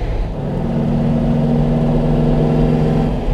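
Close and loud, the engine of a 1958 Porsche 356 A from Emory Motorsports, rated at 135 PS, climbs in pitch as it revs hard under acceleration, a steady rising drone with no speech over it.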